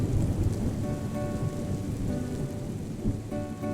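Steady rain falls without a break, with low rumbling thunder rolling underneath throughout; no voices are heard.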